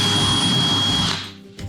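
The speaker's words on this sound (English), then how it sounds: "we had to drill out 8 rivets" A power drill whines loudly and steadily while drilling out rivets on a Prijon Yukon Expedition kayak, then winds down and stops, followed by a short knock.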